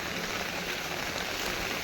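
Heavy rain pours down on a village, a loud, steady hiss of water striking surfaces that stays even throughout, with no voices.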